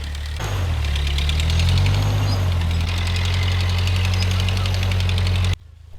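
Ford 8N tractor engine running steadily with a box blade for levelling a sloped ridge plot, a loud close chugging idle with low harmonic drone that cuts off near the end.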